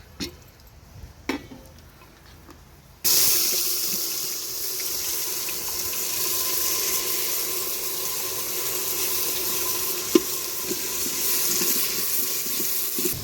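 Onion and coconut paste hits hot oil in a pot over a wood-fired chulha, a sudden loud, steady sizzle that starts after a few quiet seconds and hisses on continuously with a few faint clinks.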